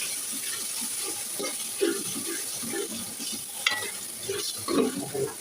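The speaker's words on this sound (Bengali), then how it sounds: "রসুন ভেজে নেওয়া হচ্ছে" Garlic and ginger paste frying in a pan, heard as a constant close sizzle broken by a few louder bubbling spurts of spitting oil, with no voices.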